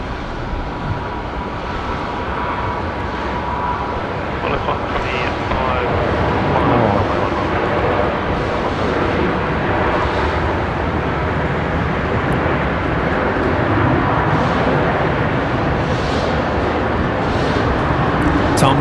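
A jet airliner departs a runway at Brisbane Airport at night, a broad steady roar that holds loud and constant throughout, with voices talking over it.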